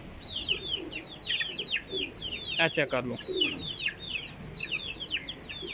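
Pigeons of the Bhajan breed coo and flutter in a steady, layered chorus close by, with someone talking briefly over them partway through.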